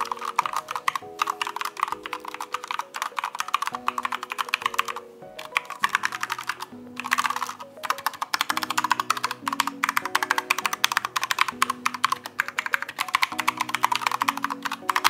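Fast, steady typing on a Corsair K65 RGB Mini 60% keyboard with Cherry MX Speed Silver switches, laid flat on a desk. Dense, close clicking keystrokes run almost nonstop over soft background music.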